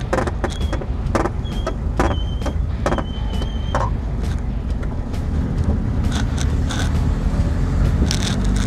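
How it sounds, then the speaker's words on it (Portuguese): A Toyota Hilux SR pickup's brakes give several short, high-pitched squeals in the first few seconds over a loud, steady engine rumble, with no talking. "Olha esse barulho do freio"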